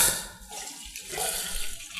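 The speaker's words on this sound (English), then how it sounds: "Get that one open and fire up the pump." A non-self-priming pump transferring sparge water during home brewing of a hazy IPA, a steady hissing rush of flowing water with gurgling, moderately loud and continuous.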